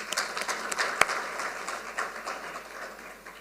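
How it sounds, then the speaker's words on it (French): Applause at a business governance event in Burundi, a moderate wash of scattered clapping with one sharp louder clap early, fading gently toward the close. "Je pense qu'on devrait les applaudir."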